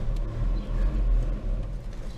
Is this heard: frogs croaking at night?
no